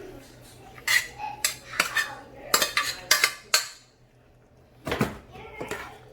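Metal utensil clatters and scrapes against a pan as creamy penne with chicken, mushroom and spinach is stirred, coming in several sharp bursts with quiet gaps between them, close by and moderately loud.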